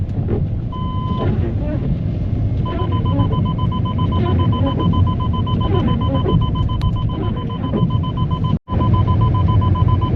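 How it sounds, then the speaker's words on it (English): Inside a Jaguar driving on summer tyres through soft, wet snow at about 1400 metres, an electronic warning tone repeats at a steady rhythm over road rumble, and a voice talks throughout. "what this beeping noise is"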